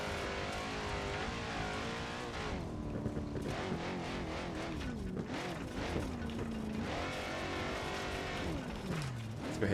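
A race car engine in a racing video game revs and shifts continuously, its pitch climbing and dropping through gear changes, loud and steady throughout with occasional tire noise.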